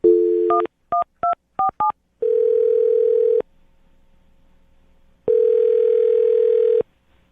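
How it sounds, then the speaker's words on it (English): A telephone number is dialed: a dial tone, then a quick run of short touch-tone beeps in uneven rhythm, followed by longer steady tones separated by a near-silent gap, all clear and close. "I'm going to dial her phone number right now"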